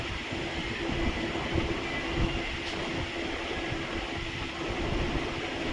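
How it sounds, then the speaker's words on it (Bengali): A sewing machine stitches lehenga fabric, running with a steady, close mechanical whirr and low rumble that holds evenly from start to finish, with no talking. "লেহেঙ্গা তৈরি করে দেখাচ্ছি এবারে নাড়া যেখানটা আমি লাগাবো ওই জায়গাটা আমি সেলাই করে দেখাচ্ছি"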